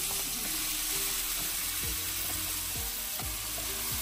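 Whole spices, bay leaf, cardamom, cinnamon and cumin, sizzling hard in hot oil in a pan as a spice mix goes in, a loud steady frying hiss throughout with faint scraping stirs.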